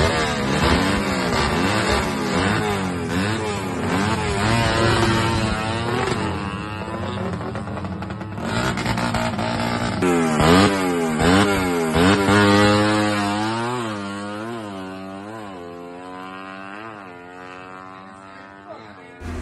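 Raider PCC motorcycle making a test run at the Bogo drag race, its engine revving hard and loud through rising and falling gear sweeps, with a continuous high-pitched buzzing whine and no talk.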